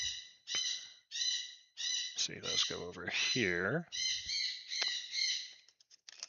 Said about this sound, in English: Those birds are going apeshit downstairs.